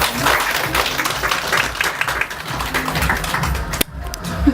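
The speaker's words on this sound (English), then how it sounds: "big round of applause, ladies." An audience applauds at a wedding event, dense clapping filling the room, with a sharp knock near the end and a brief quiet moment.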